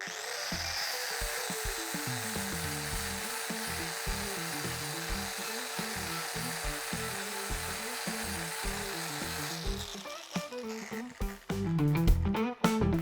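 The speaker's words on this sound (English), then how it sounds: "now we'll test it against an angle grinder with a 60 grit flappy paddle" An angle grinder with a 60 grit flap disc works on rusty metal of an old truck, a sustained rough grinding roar with rhythmic pulsing as the disc is swept, breaking into scrapes and bumps near the end.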